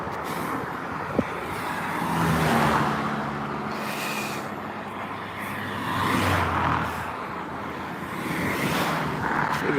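Cars and a truck pass on a rural road near rice fields en route to Mae Chan, with swelling, fading roars of vehicles going by, one louder pass at a time, and a hiss like an air brake.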